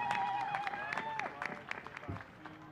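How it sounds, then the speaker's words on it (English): Crowd applause at an outdoor downtown block party concert in Tracy, a moderate spread of clapping and cheering heard at some distance, with a whistle and scattered voices mixed in. "Give one big round of applause right here."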